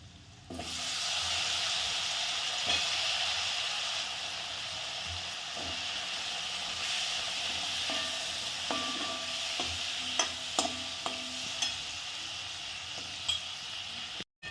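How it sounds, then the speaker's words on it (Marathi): Crushed garlic, turmeric, salt and chilli sizzling in hot oil for a tempering, a constant close frying hiss with occasional sharp pops and spoon scrapes and no speech. "छान झाली कडक फोडणी"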